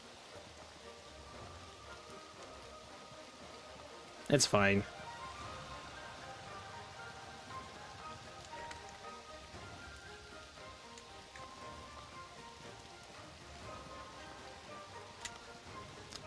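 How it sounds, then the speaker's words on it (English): Rain in the game Outward falls as a steady soft patter throughout, with a brief spoken remark and a short sharp burst of sound near the start over the continuous downpour. "And of course it's raining right now"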